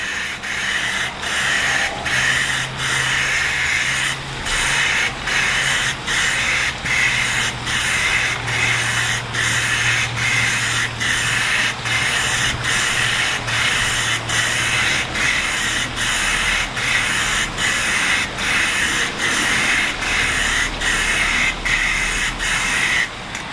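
Spray can hisses in short, rhythmic bursts while painting a computer case in crisscross layers, about one pass per second for over twenty seconds, close and steady with brief gaps between strokes.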